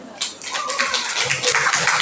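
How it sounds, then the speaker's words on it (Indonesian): Students at a vocational school entrepreneurship session clap in a loose, uneven burst of scattered hand claps that grows fuller toward the end, moderately close in a hall. "Kita kasih tepuk tangan dulu dong"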